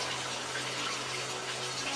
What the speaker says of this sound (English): So the water sounds larger than it is